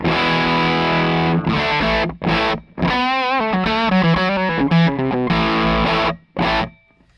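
Fredric Effects Utility Perkolator fuzz pedal with no clipping diodes drives a loud, raw electric guitar in short bursts of chords and wobbling notes, cutting abruptly to brief silences between phrases.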